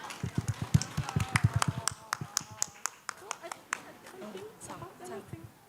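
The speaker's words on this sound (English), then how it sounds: "Give them a round of applause, please." Applause for a contestant at a school English exhibition day: a burst of crisp, fairly close hand claps, dense at first and then thinning out to scattered claps, with voices murmuring beneath.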